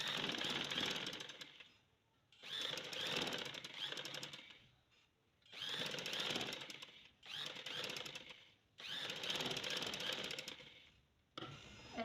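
A sewing machine stitches a straight seam along a lace edge, running in three or four steady mechanical bursts separated by short pauses, close and fairly loud with no talk.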